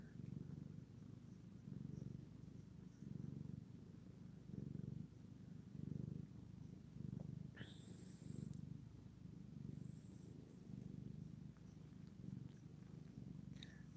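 A cat purring loudly and steadily up close, a rhythmic rumbling that rises and falls with each breath over a faint background, with a brief soft noise partway through.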